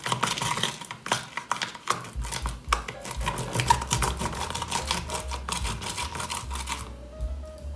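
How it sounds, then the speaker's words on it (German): Unhulled rice is rubbed against a silicone pot lid, giving close, quick rasping strokes in a fast uneven rhythm that stop near the end, with no talking. "Jetzt lege ich mal den Reis mit Pelz drauf und reibe ich."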